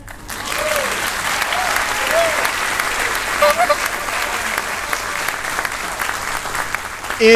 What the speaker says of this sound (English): Mae West, give her a round of applause